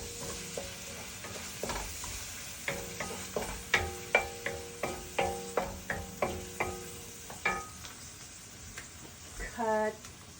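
Ingredients for zhajiangmian fry in a pan while a utensil stirs, making a quiet sizzle with a series of rhythmic tapping scrapes against the pan and a brief rattle at the end.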